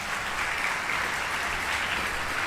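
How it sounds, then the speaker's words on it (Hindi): Audience applause in an open gathering for blood donors, a steady, dense clapping that fills the whole stretch at even loudness with no voices over it. "एक बार जोरदार ताली"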